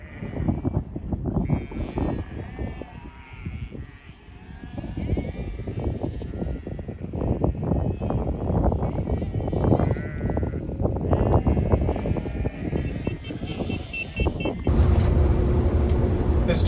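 Sheep bleat from a livestock truck on rough outback roads, their calls mixed with steady engine and road rumble, and a person talks over parts of it.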